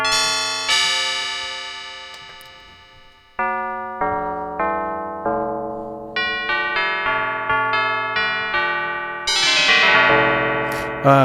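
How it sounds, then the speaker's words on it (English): Synthesized tubular bell tones from an Arturia MiniFreak's Modal oscillator strike one after another, each ringing out and decaying, forming a descending then rising melodic sequence, loud and clear. "That is really a good tubular bell emulation."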